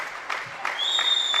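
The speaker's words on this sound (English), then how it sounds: "You hear the clapping of the crowd in the background." Scattered crowd clapping at a women's rifle three-positions shooting championship, a few distinct claps in a quiet venue, with a faint high electronic tone joining partway.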